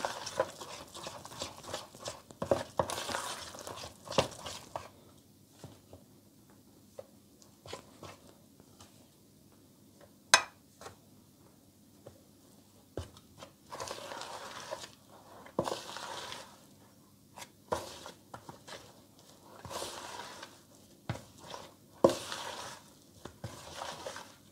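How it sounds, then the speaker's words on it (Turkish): A spoon stirring thick potato dough in a bowl, producing intermittent soft, wet scraping and slapping strokes in irregular bursts, close and fairly quiet with pauses between. "Biraz koyulaşana kadar kaşıkla karıştırabilirsiniz siz de"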